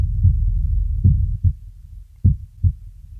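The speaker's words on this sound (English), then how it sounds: "giving the impression that we are placed exactly next to that lovely heartbeat" A slow, deep heartbeat processed with a reverb plugin thumps steadily over a low, reverberant hum, the pulses booming and blooming into a washy tail, close and loud.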